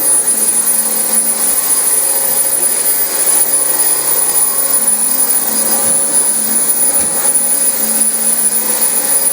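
Loud, continuous motor roar and whine from a Dyson DC25 vacuum working across a heavily soiled carpet, with faint bumps and shifts as the head is pushed along, and nobody speaking.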